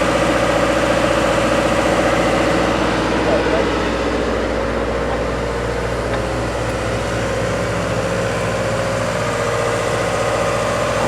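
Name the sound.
blue diesel locomotive engine idling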